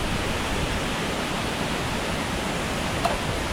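Onthupara rock falls near Cheppukulam in Idukki, water cascading and splashing onto rock in a loud, dense, unbroken roar heard close up.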